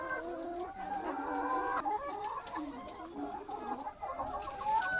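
Several chickens cluck continuously in a poultry coop, a busy overlapping chorus of short calls, fairly close, with no talking.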